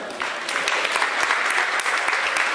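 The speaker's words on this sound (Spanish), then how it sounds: "Vamos a presentar y a recibir con un fuerte aplauso" An audience at a university event claps continuously in a dense, steady applause for a few seconds, with no voices over it.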